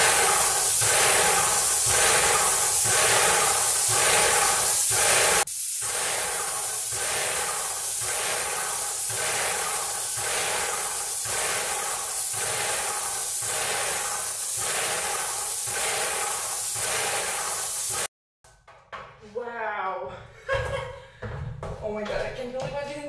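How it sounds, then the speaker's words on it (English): A Graco paint sprayer hisses in regular, evenly spaced pulses for about eighteen seconds, loud and close, while painting a home library indoors, before cutting off as a voice speaks briefly. "I use Graco spray painter and oh my god, it works like a dream"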